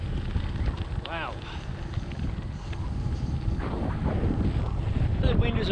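Strong westerly wind buffets the microphone of a touring bicycle on a cold, windy bikepacking ride, a steady low roar that runs throughout and swells slightly toward the end, with no talking.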